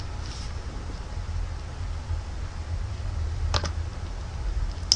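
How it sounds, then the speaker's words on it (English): Typing on a computer keyboard at a PC, with a few quick clustered key clicks over a steady hiss of background noise. "So you want to type in Cam Studio."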